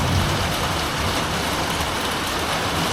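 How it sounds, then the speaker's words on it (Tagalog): Steady rain falls outdoors, a dense, loud hiss that continues without pause, with no voices. "as you can see, it's raining."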